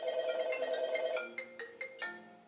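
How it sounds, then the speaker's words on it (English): A MacBook rings with an incoming phone call: a sustained electronic ringtone melody, then several short bright chime notes, fairly quiet and with no talking. "He got that MacBook up so it ain't gonna stop ringing."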